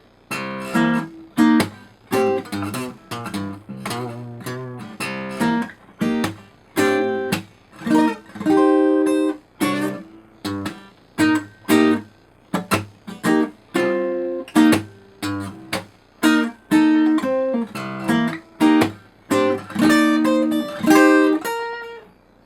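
A slow acoustic guitar passage from a song, mixing plucked, brushed and thumbed notes in a steady run of distinct attacks with ringing sustain, close and clear with no talking.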